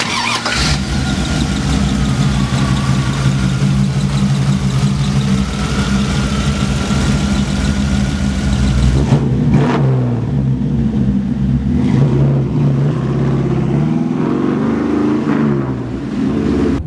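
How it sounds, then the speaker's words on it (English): A customized royal purple 1969 Chevrolet Camaro convertible restomod with a 5-speed runs loud and close, a steady rumbling idle giving way to several sharp revs that rise and fall before settling. "let's take this royal purple Camaro for a ride. 69 Camaro, convertible, 5-speed, all customized."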